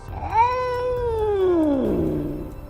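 Cat meow sound effect in a Hindi news promo: a single drawn-out, wavering meow that falls in pitch toward the end, loud and clear with no talking.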